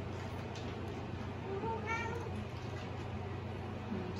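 A mother cat meows to her kittens in a home, a few short mid-pitched calls clustered near the middle over steady low background hum, with faint room noise throughout.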